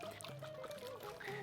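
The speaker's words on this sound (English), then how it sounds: "pour this lemon juice in slowly" Lemon juice is poured slowly into a pot of Greek avgolemono chicken soup, a faint trickling pour under soft background voices, quiet and continuous for the whole moment.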